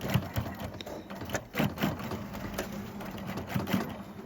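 Sewing machine stitching a back tack on cummerbund laminate over thermoplastic, a steady close mechanical rattle with rhythmic needle thumps and no voice.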